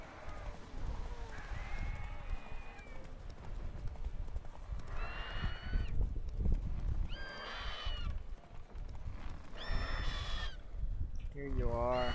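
Galloping hooves and repeated neighs and whinnies from a horse in The Witcher 3 video game, with someone talking over the steady hoofbeats.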